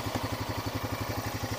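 A Honda TRX quad's engine idles just after starting, a steady rapid low thrum with even pulses, close and unbroken, with no talking.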